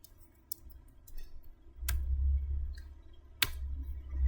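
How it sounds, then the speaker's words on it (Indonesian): Keys clicking on a computer keyboard as a command is typed into Windows CMD, a few sharp isolated taps spaced over several seconds against a low background hum. "Dengan mengetik ipconfig"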